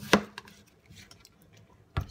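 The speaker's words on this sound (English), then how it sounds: "I will be chopping the potato" A knife chops potato on a cutting board, giving two sharp, loud chops about two seconds apart, with faint softer knocks between them in a quiet kitchen.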